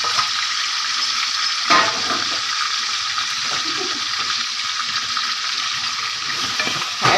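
Chicken liver and gizzards with colored peppers and hot sauce sizzle steadily in a pan while being stirred, with a loud continuous hiss and occasional scraping of the utensil.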